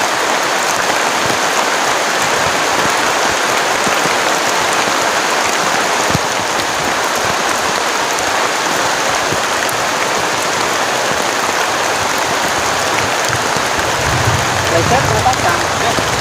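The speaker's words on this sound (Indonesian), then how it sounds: "hujannya deras banget" Heavy rain pounds on a camping tent during a storm with strong wind, a dense, constant hiss and patter that stays loud and even throughout, with voices faintly present.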